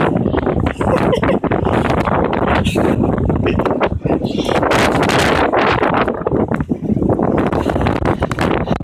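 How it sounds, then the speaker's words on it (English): Strong wind blows outdoors with loud, gusty buffeting against the microphone throughout, rising and falling in waves. It is close and harsh, and faint voices can be heard underneath. "And the wind is up."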